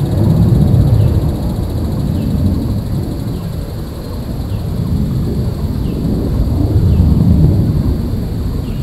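A jet aircraft passes loudly overhead, a deep, continuous roar that fills the whole stretch, swelling and easing slightly without a break.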